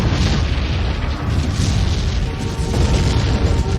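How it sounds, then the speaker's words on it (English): A loud, sustained cinematic explosion roars for several seconds, a dense broadband boom with rumbling low end that cuts off abruptly at the end, alone with no voices. "That's quite an explosion for a small device like that."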